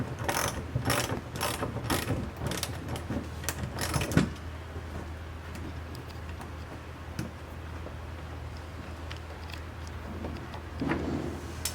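A ratchet wrench clicks in quick bursts while a corner bolt comes out of a 3rd Gen Toyota Tacoma fender well, busy for the first four seconds, then a few sparse clicks and faint handling noises, close and alone.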